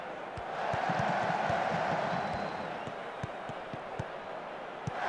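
A jam-packed small stadium crowd roars steadily through a rainy third-round FA Cup match in the Football Manager 2021 video game, a broad continuous wash of noise with scattered thumps and claps.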